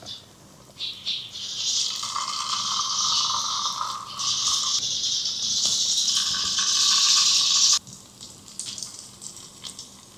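Leftover food hits hot oil in a pan and sizzles loudly, a bright crackling hiss that swells and holds for several seconds, then cuts off abruptly and returns as softer spitting pops.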